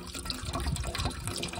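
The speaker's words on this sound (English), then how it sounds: "I'm just going to put a bit of water into here" Water is poured into a cooking pot at an outback camp in South West Queensland, a brief, close, steady splashing trickle heard alone.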